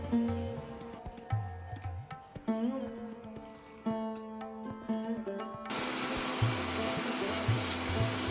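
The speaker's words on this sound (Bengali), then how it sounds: "এগুলো আমি একসাথে সব বেটে নেব" An electric kitchen grinder processing cashews, melon seeds, raisins, green chillies and dried chillies: after quieter tonal background sounds, the motor kicks in near the end with a loud, steady whirring roar.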